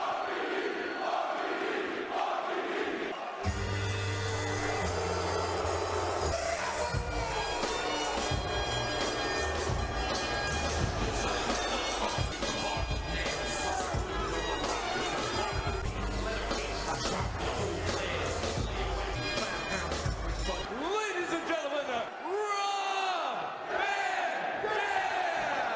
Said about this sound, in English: a hostile crowd for John Cena